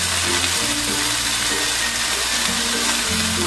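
Pumpkin leaves hit a hot frying pan with a steady, loud broadband sizzle, a continuous hiss of frying greens cooking for a Bengali chochori, with low background hum and no voices.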